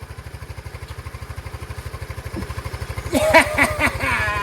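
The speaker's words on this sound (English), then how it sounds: "it's running! And it's idling beautifully." A Chinese 150cc scooter engine idles steadily with a rapid, even putter after a carburetor clean, joined near the end by louder voices and clatter nearby.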